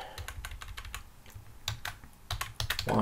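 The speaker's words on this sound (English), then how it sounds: "we're just going to type" Fingers typing on a computer keyboard, a quick irregular run of close, crisp key clicks with no talking.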